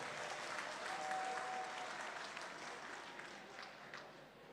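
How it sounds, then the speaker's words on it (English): Steady applause from an audience at a 5G launch event, fairly faint and distant, continuing evenly throughout without voices over it. "please, once again, a round of applause for Mary Njai."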